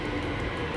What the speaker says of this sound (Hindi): सो गाइस मेट्रो आ चुकी है